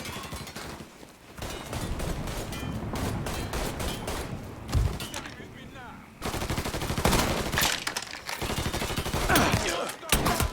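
Dense, continuous gunfire fills a firefight in the crime shooter Mafia III, with rapid overlapping shots and brief lulls, loud and close throughout.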